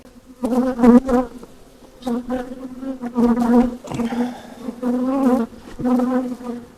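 Honey bees buzz loudly around an open hive during feeding before winter, a dense, continuous drone with pitch swells as individual bees pass close by, with no talking.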